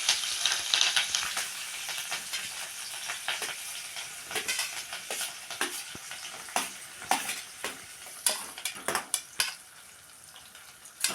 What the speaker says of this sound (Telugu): మిర్చి ఆనియన్ వేసాను